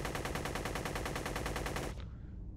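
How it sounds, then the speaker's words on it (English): A gat gun in a space combat video game fires at a distant probe: a steady, rapid automatic stream of loud, evenly spaced shots that cuts off abruptly, followed by a brief fading tail. "I can open up with my gat gun"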